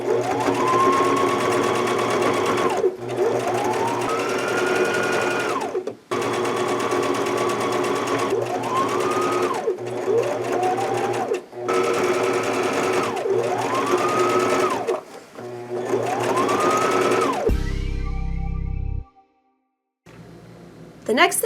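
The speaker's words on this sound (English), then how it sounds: "I'm going to move my needle over to the center position, back stitch, and then stitch down." A sewing machine stitches the straps of a canvas tote bag in several loud, steady runs of whirring motor and needle, separated by brief pauses, with a short shift of noise near the end.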